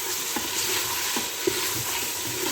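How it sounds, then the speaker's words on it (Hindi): Chicken meat sizzles steadily while being fried down in a pot for a chicken chana curry, with a soft continuous crackle and occasional stirring scrapes, no talking. "अब इसको इतनी देर तक भूनना जब तक ये गोश्त का जो पानी है ना वो खुश्क ना हो जाए।"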